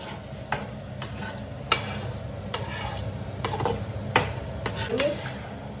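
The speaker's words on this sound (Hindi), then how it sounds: "सो गाइस अब इसके अंदर मैं डाल रही हूँ पिस्ता। थोड़े से फ्राई करूंगी मैं उनको।" Pistachios fry in a pan at home with a soft background sizzle, while a spoon stirs them and taps against the pan in sharp, irregular clinks.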